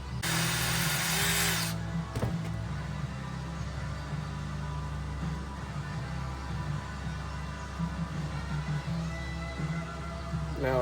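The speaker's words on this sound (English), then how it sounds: "So both of these will have to be drilled out." Power drill boring out old seized parts on a Snapper zero-turn mower with a Kohler engine, a steady close whirring grind running throughout with a brief louder burst at the start and no talk.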